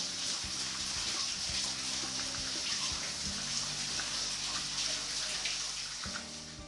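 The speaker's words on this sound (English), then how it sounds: "just the way the water is dripping." Meltwater drips and trickles inside an icy blue ice cave at Eben, forming a steady, close patter of wet drops and splashes with a faint hollow echo and no voices.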